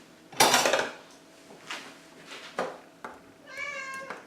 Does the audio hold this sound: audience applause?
no